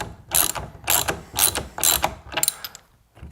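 Close, crisp ratcheting from a 3/4 inch socket wrench working loose a boat steering wheel nut, in about five quick rhythmic bursts of clicking with short pauses between strokes.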